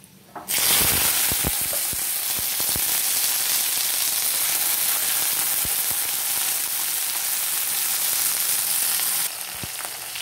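Yardlong beans with black cumin dropped into hot oil burst into a loud, steady sizzle that holds for about nine seconds, with a few sharp crackles and pops near the start and a drop in intensity at the end.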